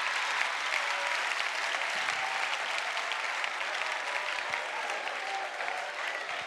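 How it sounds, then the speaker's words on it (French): Audience at a comedy show giving sustained applause, a dense, even wash of many hands clapping, steady and continuous at a moderate distance with no talk on top. "Un tonnerre d'applaudissements pour la Française"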